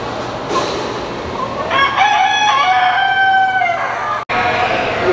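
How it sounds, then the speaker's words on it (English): Leghorn hens cluck steadily in a farm coop while a rooster lets out one loud, drawn-out crow in the middle, close by over a constant background murmur. "These are the hens, aren't they?"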